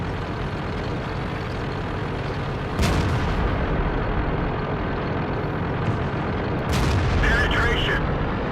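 Tank cannons fire in a World of Tanks battle, with two heavy booming shots a few seconds apart. They cut through a dense, constant roar of engine and battle noise, and a voice talks over the action.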